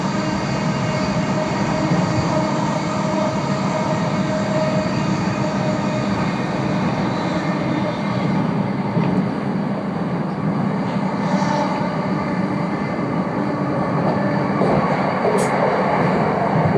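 A train rumbles through Higham railway station, a loud, steady, continuous roar of wheels and motors that holds unchanged for the whole stretch, with no voices.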